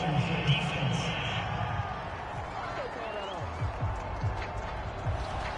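A stadium crowd in the football game Madden 22 reacts to a penalty call with a steady, loud roar of murmuring and jeering, thumping game sounds underneath and no clear talk over it.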